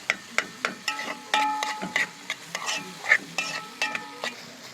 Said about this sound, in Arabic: نقلب اهو يا حبايبي، ده نقلب كده بس ما تدبل